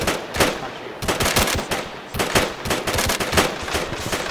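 Gunfire in the military video game ArmA 3, loud bursts of rapid shots in quick clusters with short pauses, close and continuous over a few seconds.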